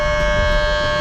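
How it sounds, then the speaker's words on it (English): Tornado warning sirens sounding in a town near Paducah during the May 16, 2025 tornado outbreak, a loud, steady wailing tone held without a break and with no voices. "We got tornado sirens."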